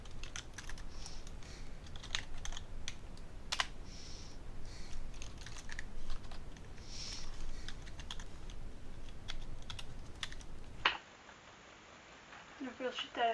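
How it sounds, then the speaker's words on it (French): Steady clicking of a computer keyboard and mouse during online gameplay, quick and irregular, close up, with a brief change in tone near the end. "le nombre de fois où je touche mon clavier ou ma souris"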